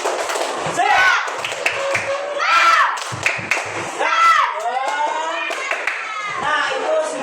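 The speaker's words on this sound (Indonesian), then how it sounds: "Kita tepuk semangat dulu ya" A standing group claps hands together in a spirited rhythmic cheer at an Indonesian gathering, bursts of claps alternating with loud chanted voices close by.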